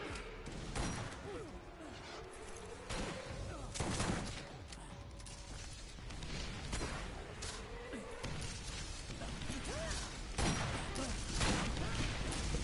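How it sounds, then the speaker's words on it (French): Gunfire in the video game Borderlands 1, repeated shots and booms scattered through the clip under a player's voice talking, dense and continuous. "Il m'a tiré dessus, ce bâtard."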